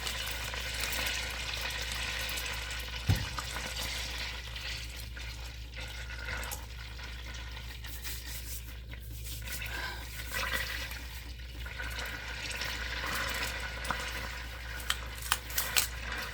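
Butter bubbles and sputters in a pan as its water steams off while making ghee, a soft, steady crackling hiss with a low rumble underneath and a few faint clinks near the end.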